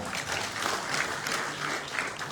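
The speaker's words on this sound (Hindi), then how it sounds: "ताली जाओ भाई साहब के लिए जोरदार" Loud applause from a meeting audience, dense steady clapping throughout with no talk over it.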